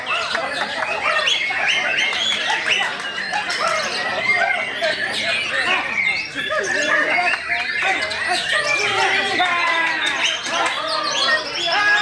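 A white-rumped shama sings continuously, loud and close, with dense, rapid chirps, whistles and squawks layered over each other.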